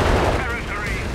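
Dense, continuous battle noise from Company of Heroes 3 as a Tiger tank fires on a command post: a loud, rough wash of gunfire and blasts that stays steady throughout, with a commentator's voice faintly underneath.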